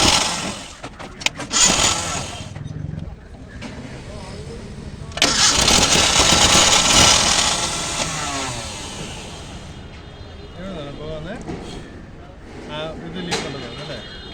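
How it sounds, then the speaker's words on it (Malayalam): Maruti Gypsy engine idling just after a cold start, with the puffing rasp of an exhaust leak; loud and close, with revving bursts and people talking nearby. "ഇത് എക്സോസ്റ്റ് ലീക്ക് ഉണ്ട്."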